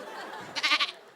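A goat bleats once, a short wavering cry of about half a second, fairly close and clear over a quiet background, in the setting of an aqiqah goat sacrifice.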